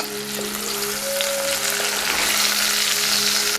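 Butternut squash and whole garlic cloves fry in a pan for spiced soup, a close, steady crackling sizzle that swells slightly, with a couple of faint tonal clinks and no talking.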